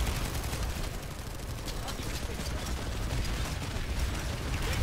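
Rapid sustained gunfire from a Planetside 2 battle, dense continuous bursts of shots filling the whole stretch at close range.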